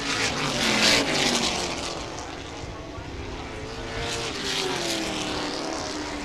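Late model race cars roaring around a short speedway oval in a feature event, a continuous loud engine drone swelling and fading as the pack passes, with an announcer talking over it.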